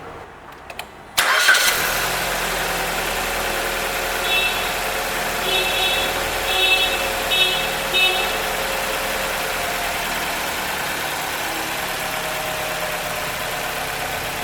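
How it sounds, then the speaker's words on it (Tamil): A car engine is jump-started with a 70mai jump starter: after a brief crank it catches and settles into a steady, close idle that continues alone. "இப்போ உங்களை நான் காரை ஸ்டார்ட் பண்ணுறேன்."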